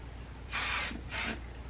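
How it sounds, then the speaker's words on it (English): Rusk thermal shine spray is sprayed onto hair in two short, steady hissing bursts, close and fairly quiet, with a brief pause between them. "Now you can use some spray. I'll use my shine spray. This is thermal shine spray from Rusk."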